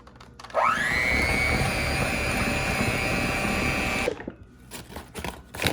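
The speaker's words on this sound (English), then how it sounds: "we're just going to go back in with this hand mixer here and blend away" A hand mixer blends sweet potato pie filling, its motor whirring up quickly to a steady, loud high-pitched drone for about three and a half seconds before stopping. Bowl and handling clatter follow.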